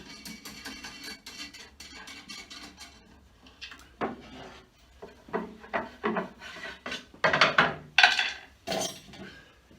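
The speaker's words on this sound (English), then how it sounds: "So the clamp can now be removed" A clamp is worked loose and removed from a cured Mirostone worktop, giving a run of close scraping, rubbing and clattering knocks that grow louder and sharper toward the end.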